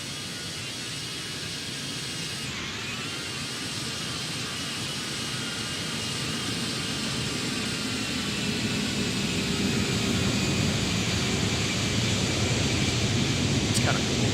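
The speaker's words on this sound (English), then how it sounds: "Do the slow-mo flyby again." An Airbus A321 passes in a slow-motion flyby in a flight simulator game, a steady wide roar of jet noise that swells gradually louder toward the end, with no break in the sound.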